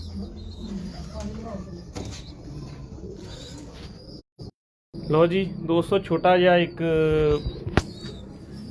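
A pet pigeon named Teddy gives soft rhythmic coos close by, mixed in with someone talking, after a brief silent gap.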